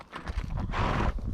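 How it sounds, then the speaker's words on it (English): Horse hooves clopping on noisy ground, a few close, uneven steps over about a second with a brief scuffing rush. "Horses are always a little tentative about walking across that stuff, aren't they? Because it makes noise."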